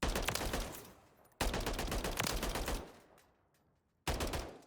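A burst-fire weapon in Modern Warfare 3 fires two-round bursts in three loud, separate volleys, each followed by a decaying rumble and brief silence.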